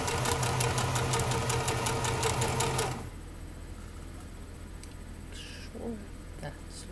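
A sewing machine stitches fabric with a loud, fast, rhythmic mechanical chatter for about three seconds, then stops, leaving quiet room tone with a few faint clicks and soft movements.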